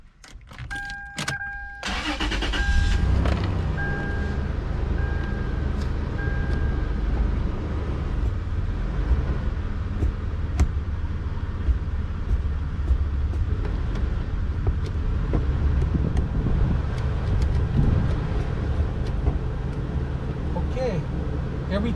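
A 2002 Toyota 4Runner engine cranks and catches after a couple of seconds, then idles steadily up close while faint clicks and shifts come through, with someone talking over it.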